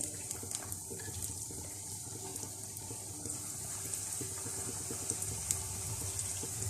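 Pakoras for kari pakora fry in hot oil with a soft, continuous sizzle and scattered tiny crackles. The sound is quiet and steady throughout, with no talking.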